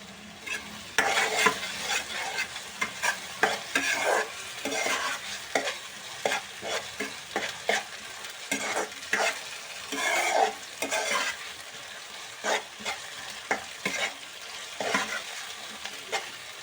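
Ginger garlic paste fries in oil for an egg curry, a soft sizzle under frequent, rhythmic scraping strokes of a spoon stirring the pan, with no talking.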